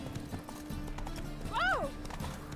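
Roach the horse galloping in The Witcher 3 video game, rhythmic hoofbeats with a short whinny near the middle, under a man's speech.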